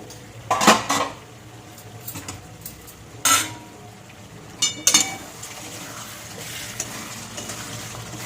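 A metal lid lifted off a cooking pot of Bengali dried fish curry, with a few sharp clanks and clinks over a low, steady sizzle and stir in the background, no voices.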